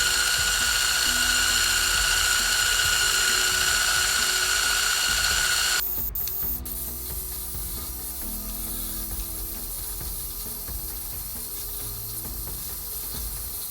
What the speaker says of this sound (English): Now we're gonna whisk our egg whites until we get some nice fluffy peaks.